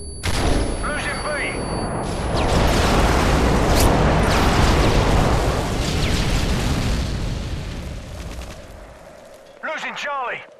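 Airstrike explosions in the video game Modern Warfare 3: a long, loud rumbling barrage of booms and blasts that swells and fades over several seconds, with in-game voices calling out.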